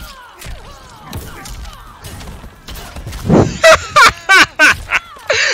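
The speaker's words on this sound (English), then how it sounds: "You noticed that, right? How it was a double explosion?" Explosions in Mortal Kombat 11, a run of sharp bursts in quick succession near the end, with a deep low boom and rattling crackles, loud and close over softer game sounds.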